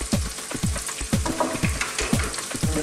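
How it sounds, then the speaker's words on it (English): Pieces of yam fry in a pan for a Jamaican ital stew, crackling and sizzling up close while a utensil scrapes and knocks against the pan in quick, regular strokes. "I just want to fry our yam up a little bit."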